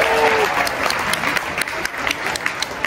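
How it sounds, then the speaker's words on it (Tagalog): Dense applause from a crowd fills the whole stretch, steady and loud with scattered sharp claps, a brief tonal whistle near the start and some voices mixed underneath. "Ma, puro na tayo palakpak ha"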